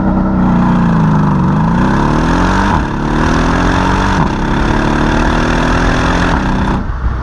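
A V8 exhaust from a BMW M5 with a muffler delete or a Mercedes E63 AMG, heard close and loud, rising in revs in a few repeated pulls with brief drops between them, a deep rumble under a rasping tone.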